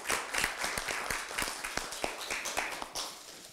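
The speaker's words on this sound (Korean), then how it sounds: "최고위원 여러분, 박수 한 번." Applause from party leadership members at a political party meeting, a steady patter of many hands clapping for a few seconds at moderate level.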